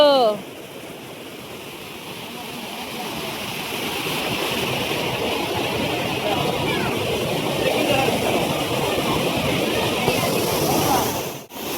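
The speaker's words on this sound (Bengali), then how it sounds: "জলের শব্দটা দেখো বন্ধুরা" Spring water pours steadily down a small waterfall at a Vashishtha temple ashram, a continuous close rushing wash that holds for several seconds, with a brief sharp knock near the end.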